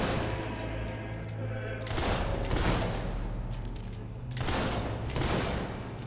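Bursts of rapid gunfire from the video game Fable 3 crackle in a few loud volleys separated by short lulls, over a steady low background hum.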